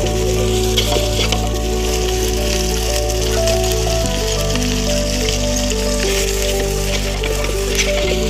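Prawn biryani sizzles and bubbles in a pot over a village wood-fired stove, a loud, steady frying hiss with a low droning hum running underneath throughout.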